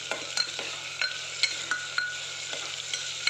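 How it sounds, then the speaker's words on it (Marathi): Spoon stirring a mix of moth beans, desi chickpeas, chickpeas and green peas in a pan for mixed vegetable khichdi, with scrapes repeating about every half second over a steady soft sizzle. "मटकी, गावरान चना सगळं मिक्स करून घेऊया व्यवस्थित हलवून."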